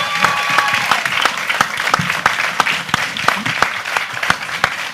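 A studio audience applauds two competing teams on a televised French-language contest show, dense, loud clapping sustained throughout with scattered sharper claps.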